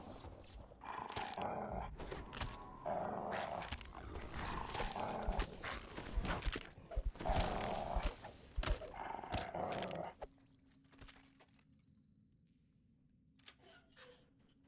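A dog companion in a video game growls and attacks an enemy near traps, with loud, busy snarling and scuffling bursts for about ten seconds before things drop to quiet ambience with a faint late sound.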